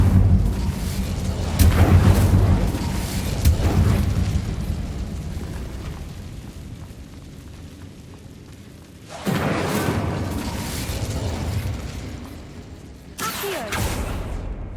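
An Incendio fire spell in Hogwarts Legacy gives loud, rumbling fiery bursts: a long roaring blast early on, then renewed eruptions near the middle and the end, heavy in low booming tones.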